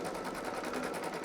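A Brother Essence Innov-is VE2300 sewing machine stitches at speed, a steady, fast, even mechanical whir and rapid needle patter running continuously and close by, with no voices.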